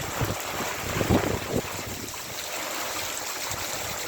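Rain falls in heavy gusting wind during an unseasonal summer downpour in Kutch, a steady roaring hiss with a few louder buffets early on and no voices.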